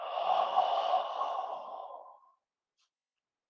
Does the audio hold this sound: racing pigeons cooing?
no